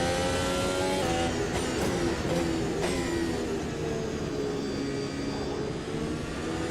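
Formula Ultimate 2022 race car in Automobilista 2 revving hard through quick upshifts, the engine note climbing and dropping sharply several times early on before settling into a steady high-pitched drone, loud and close with no talking.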